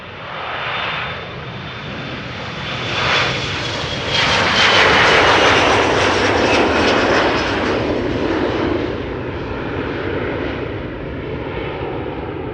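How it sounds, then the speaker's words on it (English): An Embraer 175 jet takes off at Amsterdam Schiphol bound for Stuttgart, its engine roar swelling from a distant rumble to a loud peak mid-way, then easing off as it climbs away; no talking. "The Embraer 175, of course, going first via Cheaters Lane, going to Stuttgart."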